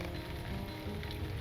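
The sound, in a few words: rain in Lord of the Rings Online video game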